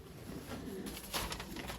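Breeding pigeons coo softly in a loft, low murmuring calls that overlap in a quiet room.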